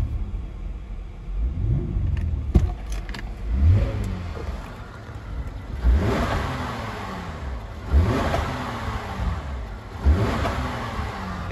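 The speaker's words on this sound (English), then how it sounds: "Let's do a little bit of throttle response here." A rear-wheel-drive Cadillac CTS with a 304-horsepower direct-injection engine revs in repeated throttle blips, each one rising and falling in a low rumble about every two seconds, close and loud with no talk.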